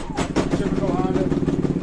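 A Powerhorse Predator generator engine runs unevenly, with a loud, close, lumpy rumble that pulses irregularly instead of holding a steady hum.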